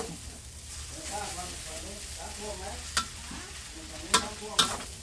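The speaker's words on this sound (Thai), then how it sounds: "ถ้าเราเคาะปุ๊บอะไรที่ติดข้างกระทะมันจะหล่นลงไปหมดเลย" Noodles stir-fried in a wok give a steady close sizzle and scraping, punctuated by three sharp metallic taps on the pan near the end, with a voice faintly present.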